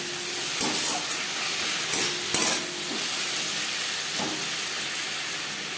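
Chopped onions and tomato frying in oil with a spoonful each of ginger paste and green chili paste for Katla fish tel jhal, a dense, steady hiss-like sizzle with a few scattered stirring knocks, close and unbroken.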